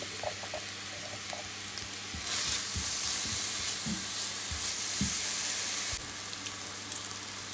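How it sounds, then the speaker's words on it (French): Chopped onion and garlic fry in a pan with a continuous crackling sizzle that swells louder midway, while soft utensil scrapes and knocks sound up close, and nobody speaks. "On fait rissoler pendant quelques minutes."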